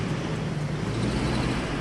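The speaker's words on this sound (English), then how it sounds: "Let's wait for the truck real quick." A truck passes on a road beside a garden, its steady broadband rumble and low engine drone holding at an even level throughout.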